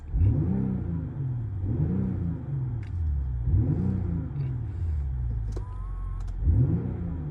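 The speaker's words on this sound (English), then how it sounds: "a few revs in comfort and sport mode here" A 2022 BMW X5 with M Performance exhaust revs repeatedly in sport mode, about four throaty exhaust swells rising and falling over a steady idle rumble, close by.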